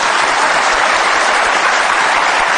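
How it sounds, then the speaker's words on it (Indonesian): Studio audience applauding on a television talk show, a dense, steady roar of clapping that stays loud and unbroken from start to finish. "Kasih tepuk tangan dong"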